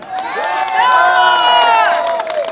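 At a period-costume contest with retro cars, a crowd votes by acclaim, bursting into loud cheering, whoops and high shouts mixed with some clapping that rises, holds strong and tapers slightly at the end.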